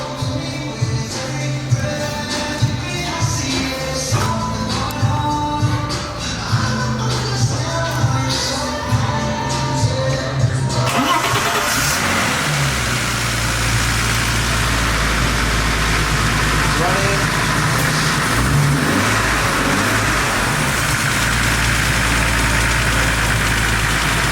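A modified car fitted with Willwood big brake kits is started in a workshop, its engine catching and settling into a loud, rough, rumbling idle with a deep low drone that carries on steadily for many seconds.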